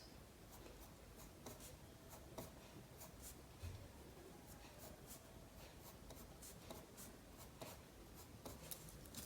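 Graphite pencil scratching on paper while drawing the lashes of an eye, a steady close rasp of quick repeated strokes with short flicking accents, with no speech over it.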